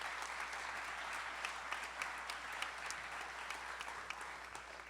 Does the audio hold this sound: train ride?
no